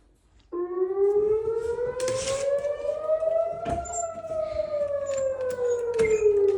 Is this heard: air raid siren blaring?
yes